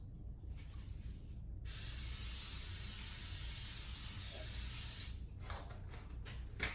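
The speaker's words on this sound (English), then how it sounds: "now it's time to heat up your pan and to use some of this butter flavor spray" Butter flavor cooking spray is sprayed into a heated pan in one steady hiss of about three and a half seconds, close and loud, with quiet kitchen rustling before and after.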